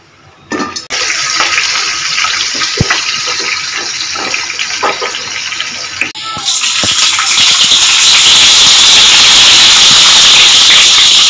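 Bitter gourd frying in hot oil in a home kitchen gives a loud, steady, hissing sizzle that swells and grows fuller partway through, with a few clattering knocks early on.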